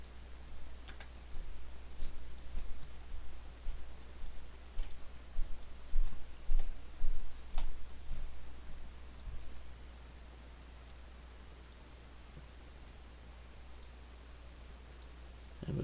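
Light, irregular clicks of a computer keyboard, faint and close, in short bursts, then tapering into quiet room hiss.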